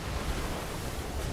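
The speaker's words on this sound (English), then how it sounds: "Incoming waves." Ocean waves in the sailing video game Arcane Odyssey, a steady broadband wash of surf and wind with no distinct breaks, moderately loud and continuous, no voices.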